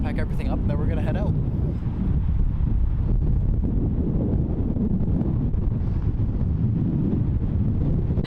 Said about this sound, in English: The wind picked up like crazy.